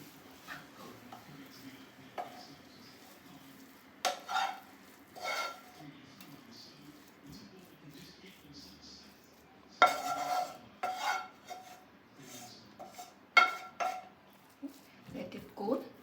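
Cooked filling for stuffed chapathi rolls being moved from a pan onto a wider plate: scattered scrapes and clinks of a spoon on metal and dish, close and moderately loud, with quiet gaps between strokes.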